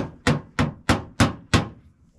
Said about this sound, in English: Need some sort of hammering apparatus.